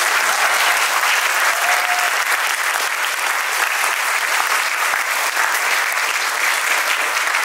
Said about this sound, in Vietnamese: Một lần nữa cộng đoàn chúng ta cho một tràng pháo tay thật lớn.